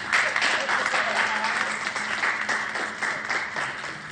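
A crowd indoors at a grand opening applauds builders with steady, dense clapping that holds for the whole stretch, loud and continuous with some cheering mixed in.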